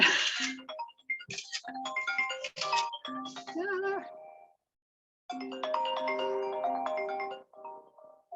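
A phone rings with a bright electronic ringtone melody, repeated tonal phrases broken by a short pause, fairly loud and close with faint voice traces between bursts.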